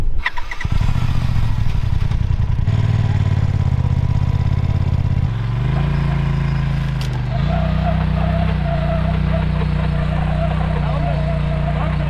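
ATV engine running steadily under load while a rope tows a stuck Jeep Compass on a cliffside trail, a loud continuous drone that shifts pitch as the throttle changes, with people talking over it.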